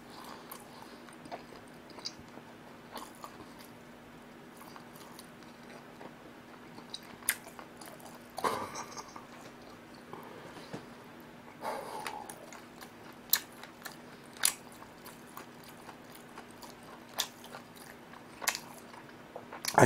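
Tough chop steak, Sichuan- and Chinese-style, is chewed quickly during an eating show, giving faint, close, intermittent wet chewing clicks and smacks over a quiet background with no talk.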